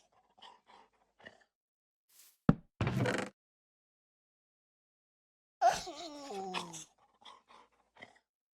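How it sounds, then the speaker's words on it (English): Dogs in the video game Minecraft whimper and whine in short bursts, with a thump and a longer wavering whine partway through, between quiet gaps. "Dogs, you sound absolutely pitiful, and it makes me very nervous for your health."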